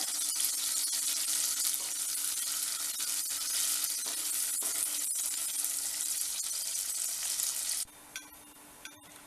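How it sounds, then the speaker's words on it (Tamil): Prawns roast in oil in a pan with a loud, steady, close hiss of frying, broken by occasional clicks of a utensil and dropping to quieter taps in the final second. "இறால் ரோஸ்ட் பண்ணி பாதி, அதாவது ஒரு 8 to 10 இறால் நம்ம ரோஸ்ட் பண்ணி எடுத்துக்கிட்டோம்"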